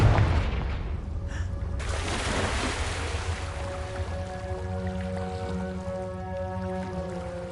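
A Confringo fire spell bursts in Hogwarts Legacy, one loud whooshing blast that fades into a roaring, sizzling wash with faint tonal game music rising beneath it.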